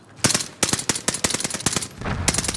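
Rapid bursts of automatic gunfire ring out in Call of Duty: Modern Warfare, loud and close, in repeated volleys of sharp shots with a brief pause before the firing resumes.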